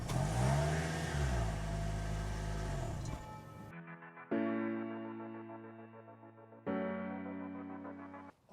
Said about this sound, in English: And this is how the exhaust sounds like.